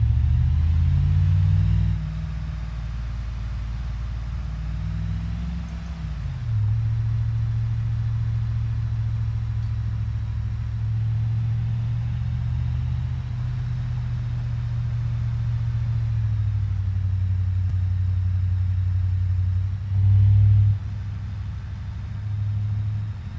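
A truck engine in the BeamNG Drive driving game rumbles along steadily at low pitch throughout, with a couple of brief rises as it shifts through gears and accelerates, loud and continuous with no talk.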